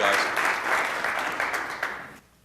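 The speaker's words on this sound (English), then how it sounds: "So how about a round of applause for these 2 guys?" A round of applause at a city council meeting, a dense wash of clapping from a room full of people that holds steady for about two seconds, then cuts off abruptly.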